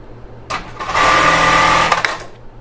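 A sewing machine stitches an elastic bra strap in one steady burst of about a second, humming loud and close, with a few clicks at the start and at the end.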